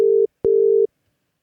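A telephone ringing tone sounds as a clear, close double burst: a short buzz, a brief gap, then a longer buzz, with nothing else heard.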